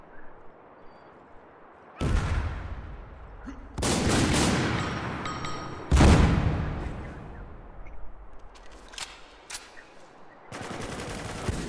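Gunfire in the shooter game Spec Ops: The Line during a multiplayer team deathmatch on the Crow's Nest map: loud bursts of rapid automatic fire in several long volleys separated by short pauses, with scattered quieter shots between.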